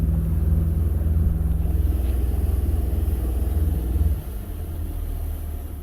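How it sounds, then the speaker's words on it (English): Twin outboard motors idle and rumble on a 250 Defiance boat in San Juan, a steady low engine drone that drops slightly in level about two thirds through, with no talking. "I'm going to trim the other motor down."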